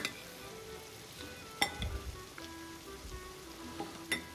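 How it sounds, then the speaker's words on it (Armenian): Onion sizzles quietly in a frying pan as it is stirred, with a faint steady crackle broken by several sharp utensil scrapes and clicks against the pan. "Խառնենք։"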